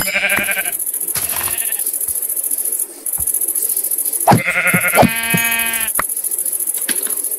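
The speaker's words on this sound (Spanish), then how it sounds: "Vamos a matar unas ovejas." Minecraft sheep bleat repeatedly, with a wavering cry at the start and a cluster of close, loud, trembling bleats in the middle, mixed with soft thuds over a constant high-pitched hiss.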